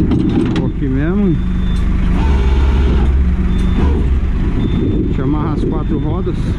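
Tow truck diesel engine idling steadily in the background while someone talks over it, a constant low rumble beneath his voice.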